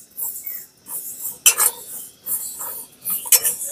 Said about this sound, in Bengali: সর্ষেগুলো ফুটতে আরম্ভ করেছে